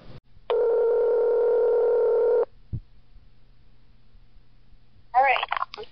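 A telephone dial tone holds steady for about two seconds and stops, followed by a brief low thump and a short burst of warbling tones, all quiet, before a prank call.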